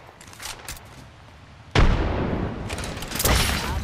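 A frag grenade detonates in Apex Legends with a sudden loud boom, followed by rumbling debris and a second swell of noise, over faint background game sounds.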